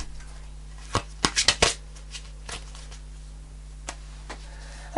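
Tarot cards shuffled by hand in a quiet room, a burst of crisp riffling clicks and slaps near the start, then sparse faint taps and rustles.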